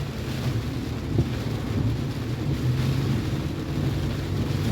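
Strong typhoon Odette wind roars steadily and close along a city road in Lapu-Lapu City, a dense low rumble of gusts buffeting the microphone with no voices.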